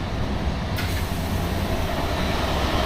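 Steady low rumble and rolling noise inside a moving train in Norway, a continuous loud interior drone with a brief higher swish near the start and no talking.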